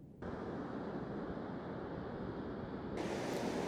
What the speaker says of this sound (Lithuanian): Tad ir mes jau prie vandenyno.